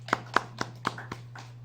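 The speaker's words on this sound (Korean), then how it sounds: "할렐루야. 우리 박수" A church congregation claps: five or six sharp, evenly spaced claps, close and moderately loud over a steady low hum, fading out by the end.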